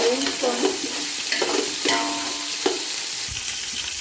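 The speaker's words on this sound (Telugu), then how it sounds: "పెద్ద టేబుల్ స్పూను అల్లం పేస్ట్ వేస్తున్నాను. బాగా పచ్చి వాసన పోయేంత వరకు వేయించుకొని" Ginger paste fries with thinly sliced onions in hot oil for chicken biryani, a loud steady sizzle close up with a few stirring scrapes of a spoon in the pan.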